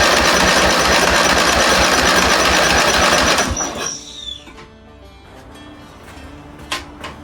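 A faulty ride-on lawn mower engine runs loud and rough with a rapid, rattling beat for about three and a half seconds, then cuts out and winds down, leaving faint clicks and scattered mechanical noises.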